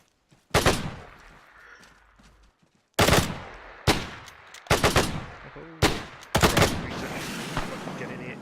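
Enemy gunfire in the Arma 3 military game, a string of loud, close rifle and machine-gun bursts after a short quiet opening, each crack followed by a fading echo, several coming in quick pairs.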